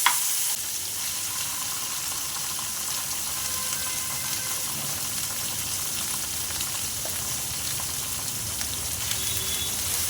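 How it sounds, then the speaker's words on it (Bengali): A ground paste of dried chillies, cumin, ginger, cardamom and red chillies fries in a pan while being stirred. It makes a continuous, even sizzle with faint scraping from the stirring throughout. "আবার ভালো করে কষতে থাকবো।"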